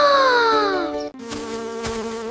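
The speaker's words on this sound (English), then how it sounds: "Oh no, mosquitoes!" Mosquitoes give a high, thin whining buzz that slides downward in pitch, stops for a moment, then resumes as a steady drone up close.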